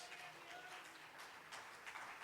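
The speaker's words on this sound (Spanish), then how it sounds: "Dele palmas al Rey una vez más." A church congregation at a Sunday service applauds, broad continuous clapping from many hands filling the room, fairly quiet and steady with a few swells toward the end.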